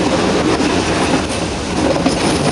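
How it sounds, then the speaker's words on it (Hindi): The Ooty mountain railway train rolls toward a tunnel with a steady, loud rumble of wheels on rails. Faint clickety-clack and a light squeal carry through the ride, and no one speaks. "एक टनल आ रहा है।"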